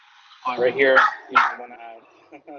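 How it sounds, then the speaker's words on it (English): A dog barks in the background during an online course-search tutorial, several short barks and yips mixed under a man's speech. "Sorry about the barking."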